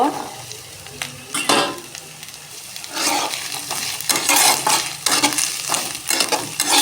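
Thinly sliced potatoes go into hot oil and fry with a steady sizzle, broken by repeated scraping and stirring strokes against the pan. No one speaks.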